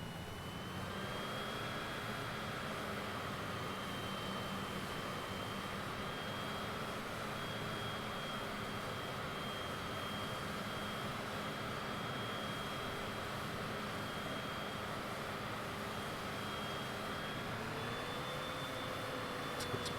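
Airplane engine in a flight simulator video game, a steady loud jet drone that holds a constant tone for the whole stretch, then shifts pitch near the end, with no talking over it.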